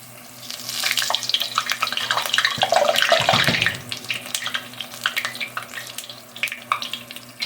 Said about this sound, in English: I'm going to take this ladle and my spoon, and I'm going to just kind of plunk them